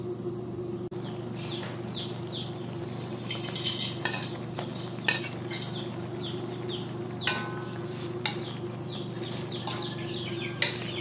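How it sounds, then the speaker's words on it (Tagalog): Alukon vegetables and fried fish are stirred in a pan, with a soft continuous sizzle under intermittent scraping clinks of a utensil against the pan, close but fairly quiet. "Ayan, haluin lang natin."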